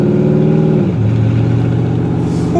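Porsche Cayenne engine heard close while driving, a steady loud drone whose pitch drops sharply about a second in as the revs fall, then holds a lower even hum to the end.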